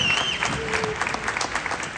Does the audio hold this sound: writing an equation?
no